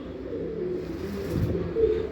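Pigeons coo steadily at a pigeon farm, a low soft burbling that continues throughout and swells louder near the end, with no talking.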